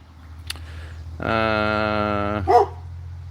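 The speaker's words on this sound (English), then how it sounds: "He's barking at my pigs because they're over here now." A dog at an off-grid homestead on Eua, Tonga, gives a sustained howling bark aimed at pigs, preceded by a faint short sound and ending in a brief yelp, fairly close.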